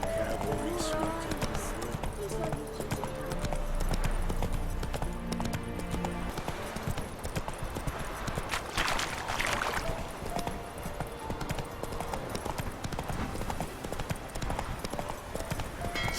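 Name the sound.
cavalry horses galloping, from the video game Witcher 3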